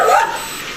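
A dog inside a house gives a single short, sharp yip-like bark right at the start, close and loud, then room tone.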